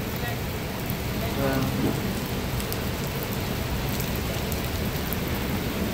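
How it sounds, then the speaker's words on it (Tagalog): Steady rain falls throughout during a rainy jog, a dense continuous hiss with a faint voice briefly audible in the background. "Umuulan."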